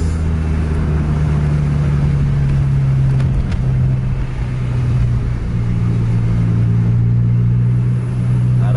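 Buses running in convoy on a wet, flooded road, a loud steady engine rumble with a sustained low drone and tire hiss, the engine note shifting slightly as they press on, with no talking.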